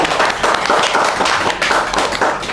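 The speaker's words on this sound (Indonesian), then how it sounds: "Iya, tepuk tangan dong." An audience at a school event claps loudly and continuously, a close, busy patter of many hands with slight swells in intensity.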